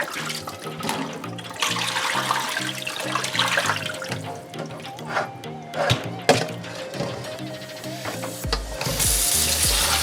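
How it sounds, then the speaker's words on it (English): Tap water runs into a kitchen sink while oxtail is washed for Jamaican oxtail stew, a steady rushing and splashing over background music, with a louder gush near the end. "So you wash your oxtail."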